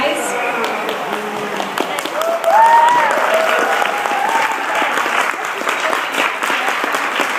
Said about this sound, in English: Let's have another round of applause for all the candidates.